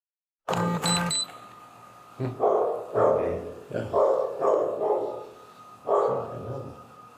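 A dog barks in a series of sharp, fairly close barks with short gaps between them, audible over a muffled background.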